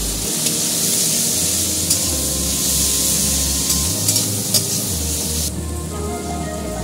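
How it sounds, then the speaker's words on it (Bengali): Onions fry in a pan with salt, turmeric and chili powder, giving a loud, continuous close-up sizzle with a few faint stirring clicks, softening slightly near the end. "পেঁয়াজের মধ্যে নুন দিয়ে দিলাম, হলুদ দিয়ে দিলাম, লঙ্কার গুঁড়ো দিয়ে এবার ভালো করে ভেজে দেবো"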